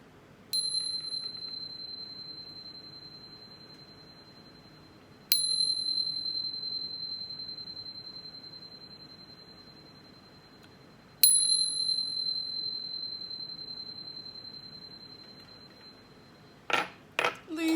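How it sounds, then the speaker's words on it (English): A bright metallic chime, like a bicycle bell, rings three times at even spacing, each strike ringing out and fading, with a couple of soft clinks near the end, ahead of a tarot reading. "But first, let's chime."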